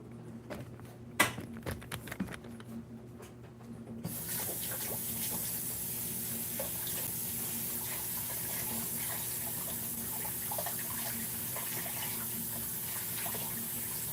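A sink tap in a home kitchen opens after a few quiet clunks and knocks, then water runs steadily and close for the rest, a hanger being rinsed under the stream.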